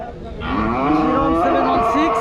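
A heifer at a cattle and buffalo market in Rajshahi gives one long, loud, close moo, with faint crowd murmur behind it.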